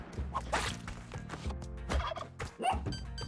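Turkeys in Spelunky 2 gobble in quick, warbling bursts, several calls following one another with short gaps, close and clear with no talk over them.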